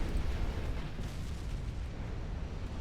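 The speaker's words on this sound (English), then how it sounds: "flooding, torpedo detonation." Torpedo detonation in the naval warfare game Ultimate Admiral Dreadnoughts, a heavy rumbling blast that rolls on as a sustained low roar for several seconds, with no voices.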